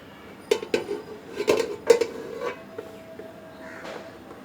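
A metal cake pan is set down into a preheated pot on the stove, giving several clattering metallic clinks and scrapes close by, followed by a faint ringing tail.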